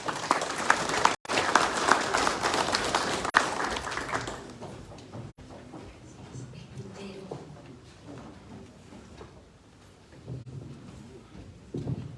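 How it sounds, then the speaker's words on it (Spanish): Seminar audience gives a speaker a welcoming round of applause, dense clapping for about four seconds that fades out into quieter room noise and murmuring. "La recibimos con aplausos, por favor."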